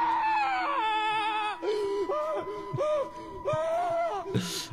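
A man screams on a short TikTok clip, several loud, strained wailing cries in a row with breaks between them, ending in a harsh breathy burst.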